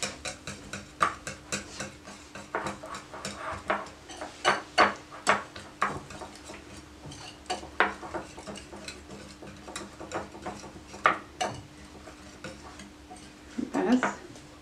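Mango amchoor chutney is mixed with coriander, chaat masala and salt, with a spoon scraping and tapping against the bowl in irregular clicks under a low steady hum.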